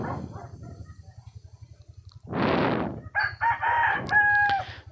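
A free-roaming native rooster perched up on a mango tree branch in a backyard crows several times in loud, close, drawn-out calls, following a burst of rustling or flapping, with a steady low hum underneath.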